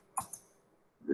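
A few quiet clicks from keys on a computer keyboard, one short cluster near the start and another tap at the end, isolated and faint.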